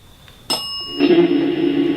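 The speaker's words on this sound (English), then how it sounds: "Now the music box isn't doing anything, and the bell's going crazy." A single bright bell strike rings out in a manor and then a second tone follows, its clear ringing sustaining and fading over quiet background.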